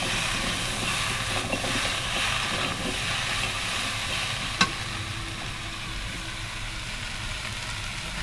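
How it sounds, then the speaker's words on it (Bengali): Curry ingredients for a thin fish curry with drumstick stems and potato fry in a pan, making a steady, even sizzle with a single sharp click partway through and no voices. "ভালো ভেজে দিচ্ছি এই"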